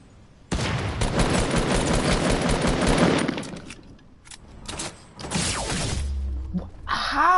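Rapid automatic gunfire in the video game Fortnite rattles loudly for a few seconds, then breaks into scattered bursts and shots, followed by a brief tonal in-game effect at the end.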